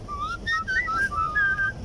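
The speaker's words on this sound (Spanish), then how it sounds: "No íbamos a estar chiflando así como que" A person whistles a quick, wandering melody of short, bright notes with brief gaps, fairly close and alone, against a quiet outdoor background.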